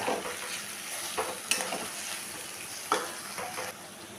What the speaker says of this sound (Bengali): আরও খানিকক্ষণ মশলার পেস্টের সাথে কষিয়ে নেব